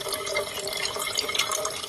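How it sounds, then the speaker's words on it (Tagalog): A weak trickle of clear spring water flowing down from a mountain, heard as a faint, steady splashing and bubbling with no voices. "Mahina nga lang siya pero matamis yung tubig."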